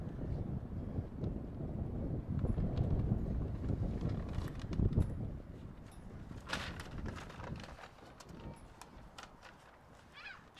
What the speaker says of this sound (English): She's a little breezy here.